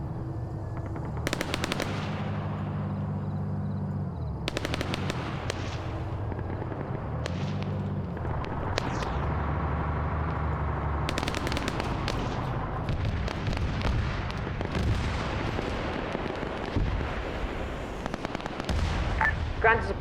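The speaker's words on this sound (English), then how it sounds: "We took fire from behind us." Gunfire in the Arma 3 video game: bursts of automatic rifle fire and single sharp shots crack repeatedly at varying distances, dense and irregular over a low rumbling background for the whole stretch.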